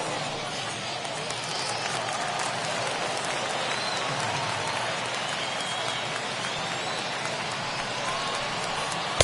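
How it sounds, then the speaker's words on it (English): A baseball stadium crowd rises and cheers on a full count of three balls and two strikes, a dense, steady roar of many voices and claps heard from a distance throughout. "Crowd gets up for the 3-2."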